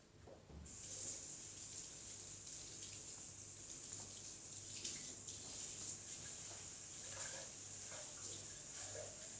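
Warm water running from a tap while making pizza dough, a steady bright hiss of flow that lasts the whole stretch at a moderate, even level, with faint background rumble.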